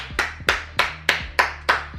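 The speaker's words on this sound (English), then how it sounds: "Give her a round of applause." One person claps six times in an even rhythm, each clap crisp and close to the microphone, with a short ringing tail after it.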